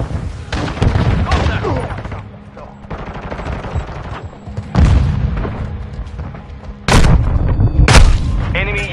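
Explosive booms and bursts of gunfire in a military shooter video game, loud and close, with a sharp stun-grenade-style blast and radio-style voice callouts mixed in.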